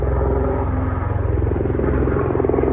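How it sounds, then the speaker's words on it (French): A helicopter flies over Clairefontaine, its steady, loud rotor thump and engine drone holding constant throughout with a pulsing low rumble and no voices. "T'entends l'hélicoptère là?"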